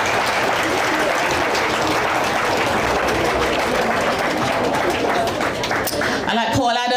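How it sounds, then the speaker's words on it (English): Steady, loud audience applause fills a hall at a thanksgiving service as a woman returns to her seat, a dense continuous wash of clapping that breaks off abruptly near the end. "Another round of applause for her as she takes her seat."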